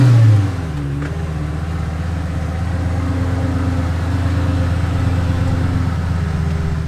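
Lamborghini Gallardo supercar engine running loud and close, a deep steady rumble with a rough pulsing texture after a brief louder opening, heard alone.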